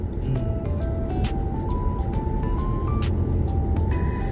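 A vehicle engine is revved repeatedly while driving, its pitch climbing in steps over steady, loud road and engine noise close by.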